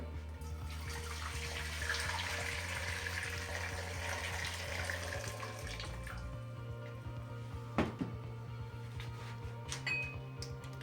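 Water pours steadily from a tap into a cooking pot, about one and a half litres, a continuous hissing splash with a low hum beneath and a clink or two near the end.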